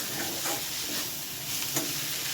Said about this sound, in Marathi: आणि काश्मीरी लाल मिरची परतून घेऊ आपण. हे परत मिडियम गॅसवर परतून घ्यायचं.